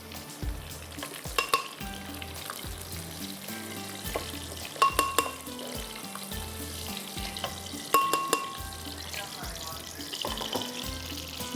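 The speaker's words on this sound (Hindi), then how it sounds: "ये हो गया प्याज जा रहा है इसके अंदर।" Chopped onion fries in a pan while being stirred, a close sizzle punctuated by repeated scraping and clinking of a spoon against the pan, with some watery splashing mixed in.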